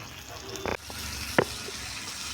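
Bangda (mackerel) fish fry in a pan with garlic, giving a steady close sizzle with a couple of brief clinks from a utensil.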